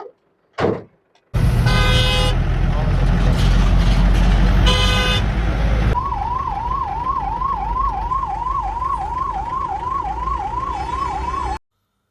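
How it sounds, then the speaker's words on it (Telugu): Loud, long car horn blasts sound in a jammed street during Sankranti festival traffic in India, then a wailing siren rises and falls steadily under the continuing honking. "ట్రాఫిక్ అయితే ఎలా జామ్ అయిపోయిందో"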